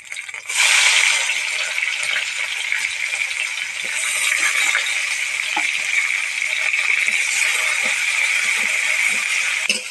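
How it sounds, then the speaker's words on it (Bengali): Onions frying in oil in a wok give a steady, close, bright sizzle that starts abruptly and keeps a constant hiss throughout, with faint crackles underneath. "পেঁয়াজটা লাল লাল করে ভেজে নেব।"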